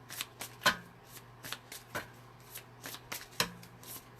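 A unicorn oracle card deck is shuffled by hand at close range, with quick riffling flutters and soft card slaps repeating in an irregular rhythm and no talking.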